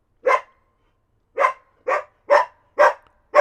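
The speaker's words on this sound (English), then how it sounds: "You're barking at nothing." A dog named Tallulah barks indoors, one loud bark followed after a pause by five more in a steady run, close and clear with silence between.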